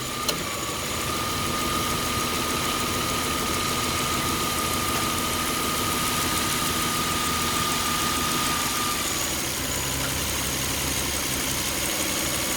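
A 2003 Toyota Camry V6 idles with a steady, even hum and a faint tonal whine that drops away near the end, close and continuous with no talking.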